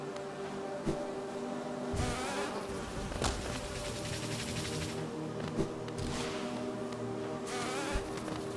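A steady insect buzz from a bee enemy in the Hollow Knight video game, droning continuously at moderate level, with occasional small clicks and hits from the game layered over it.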